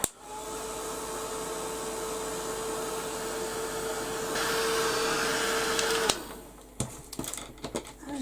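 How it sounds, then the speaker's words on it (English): A heat gun blows with a continuous close hiss and a steady whining tone for about six seconds, then cuts off, leaving a few faint clicks and handling sounds. "Give that a quick blast with the heat gun as well."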